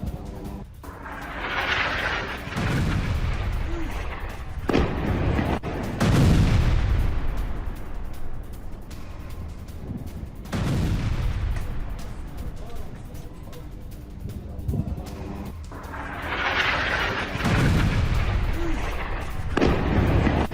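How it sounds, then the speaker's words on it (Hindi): Israeli bombing strikes on Hamas rocket launch pads in Jabalia, Gaza: several heavy, booming blasts come in waves with rumbling decay, loud and fairly near, and a news presenter talks over them. "यह देखिए जरा, हमास के रॉकेट लॉन्च पैड पर इजराइल की बमबारी।"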